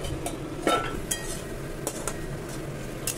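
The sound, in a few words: lid being placed on cooking pan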